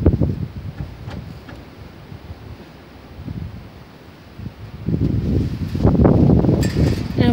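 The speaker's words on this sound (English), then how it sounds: "it's nice out here, but it's windy." Gusty wind buffets the microphone outdoors, low rumbling that eases midway and then swells louder toward the end.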